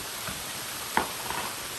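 Flour being stirred into sizzling chicken pot pie filling in a pan, a soft steady hiss with a single brief stirring scrape near the middle, close and fairly quiet.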